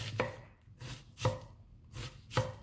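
Celery being diced with a knife on a cutting board, several close, evenly spaced chops with brief pauses between them and no talking.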